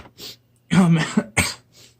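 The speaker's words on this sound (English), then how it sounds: "I have a cold and it's hard to breathe right now, so I might be coughing and sniffing sometimes." A person with a cold coughs and clears their throat in a few short, close bursts separated by brief pauses.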